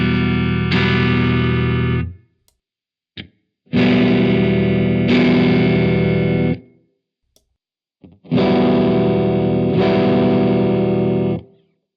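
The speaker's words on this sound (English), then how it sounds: "let's sweep the bias now so you can really hear the difference" Guitar played through a Strymon UltraViolet vintage vibe pedal with its bias control being swept, giving three loud distorted strummed chords that ring and wobble, each cut off by silence.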